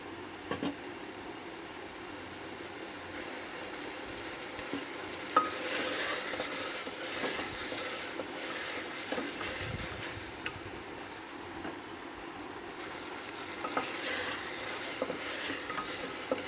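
Chana dal with mutton being stir-fried in a pan, a continuous close sizzle under repeated stirring scrapes and light utensil knocks, with no voices.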